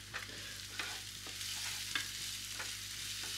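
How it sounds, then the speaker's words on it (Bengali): Spice masala with Kashmiri chilli powder frying in a pan, a steady soft sizzle under repeated scraping stirs of a spatula, close and fairly quiet, no voices. "এইবারে মশলাটা আমি ভালো করে"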